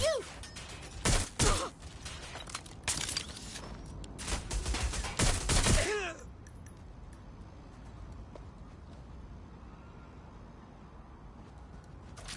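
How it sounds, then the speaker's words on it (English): Gunfire in the video game Watch Dogs Legion cracks out in several sharp bursts over the first six seconds, followed by a quiet ambient stretch. "Shots fired!"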